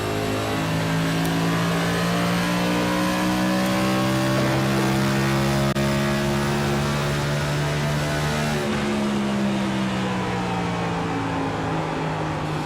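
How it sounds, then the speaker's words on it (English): A NASCAR Next Gen race car engine drones steadily at high revs in iRacing at Phoenix Raceway, its pitch rising and shifting as tires strain, loud and continuous. "you can just hear those tires absolutely begging for mercy on Johnny Avila's car."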